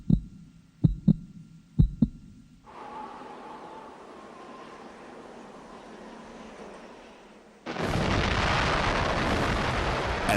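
An atom bomb test explosion opens with a few low, spaced thumps and a murky building rumble, then bursts into a sudden loud, sustained roaring blast.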